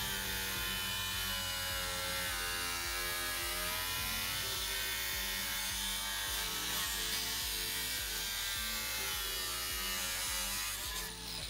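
A power tool, an angle grinder or Dremel, cuts into a Toyota 4Runner rear truck bumper with a steady whining buzz and rhythmic grinding pulses, close and continuous, rising into a harsher rasp near the end.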